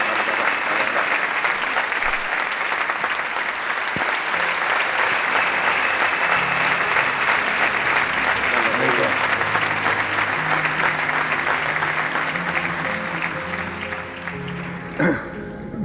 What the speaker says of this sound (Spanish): Siga ese aplauso, por favor.